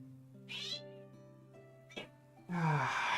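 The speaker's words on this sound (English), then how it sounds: "now my cat wants attention." A pet cat meows for attention with several short, close meows, one of them a sharp little squeak. The last call is a longer, louder and more strained cry.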